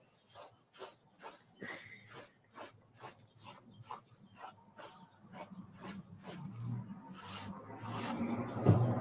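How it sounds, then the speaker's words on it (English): A sheep shearing comb being stropped: rhythmic rasping strokes, about two per second, each a close scraping swish, growing denser and more continuous toward the end, with no voices. "Now I'll either stick her on the buffer or give her a good strop."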